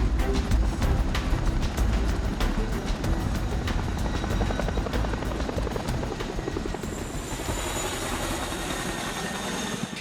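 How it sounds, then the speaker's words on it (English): A CH-47 twin-rotor military helicopter thunders close by, its rotors chopping in a loud, rapid steady rhythm over a heavy engine roar. "the CH-47 remains one of the most adaptable helicopters in the world"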